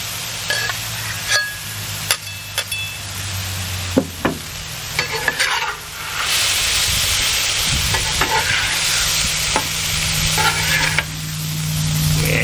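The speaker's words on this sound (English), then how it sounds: "you gotta get a nice char on that meat" Cheesesteak meat and onions fry on a grill with a continuous sizzle, punctuated by sharp scraping and clanking of a spatula stirring and chopping at irregular intervals, close and moderately loud with no talking.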